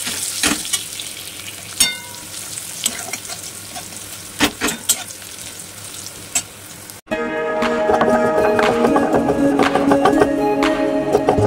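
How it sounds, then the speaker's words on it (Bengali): Garlic fries in a pan on a kitchen stove with a continuous close sizzle and occasional stirring clicks, growing noticeably louder and denser partway through; no one speaks. "চলো রসুনটা ভাজা হয়েছে গিয়ে দেখি,"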